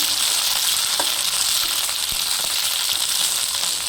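Green chillies fry in a pan with a dense, steady hiss and crackle, while faint clinks and scrapes from stirring come through now and then.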